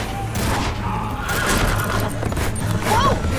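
A horse whinnies amid chaotic action in The Walking Dead: A New Frontier video game, a rising neigh near the end over gunfire-like booms and commotion.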